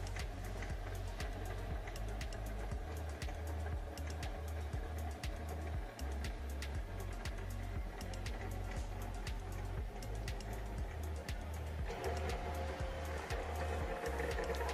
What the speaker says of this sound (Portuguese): A impressora vai começar a fazer a digitalização do arquivo.